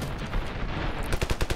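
Signal DMR rifle shots in the video game Ravenfield: a muffled rumble at first, then a quick series of sharp, punchy shots close by in the second half.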